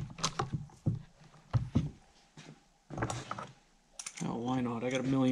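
Clamps being cranked down onto a Bluetooth speaker box, giving bursts of ratcheting, gear-like clicks and creaks that are close and fairly loud. A sustained harmonic tone rises near the end.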